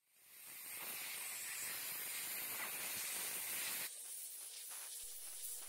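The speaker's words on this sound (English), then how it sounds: "Anything that gets into the nooks or crannies can be blown out with an air compressor." An air compressor nozzle blows oil finish out of the nooks of a wooden project in a steady, loud hiss of air that runs for several seconds and changes tone partway through.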